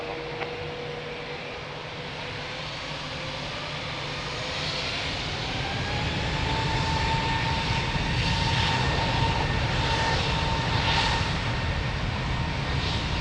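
An airliner takes off from runway 02 at Lisbon Airport, its steady engine roar swelling gradually and holding loud, with a rising whine running through it.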